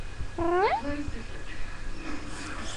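A woman imitates a cat with her voice, producing a deep, throaty meow-purr: one rising, wavering meow followed by a lower, shorter tail, close up against faint room noise.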